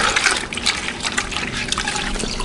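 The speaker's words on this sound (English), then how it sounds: "Rinse it in the dirty bucket." A car wash mitt is rinsed in a dirty bucket of water during a rinseless car wash, giving close, continuous sloshing and splashing with irregular bursts and no voices.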